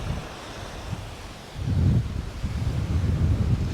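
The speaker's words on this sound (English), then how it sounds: "And a windy little spot this is." Wind buffeting the microphone on a sandy beach on Neil Island in the Andaman Islands, gusts strengthening midway, with a low rushing roar and no voices.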